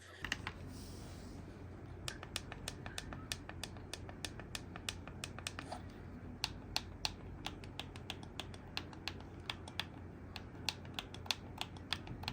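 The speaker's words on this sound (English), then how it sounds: "the D-pad and plus and minus buttons have really strong clicky sounds" Sharp, clicky presses on the D-pad and plus and minus buttons of a QRD Stellar T5 Switch controller, rapid and uneven, some in quick bursts, crisp and close against a very quiet background.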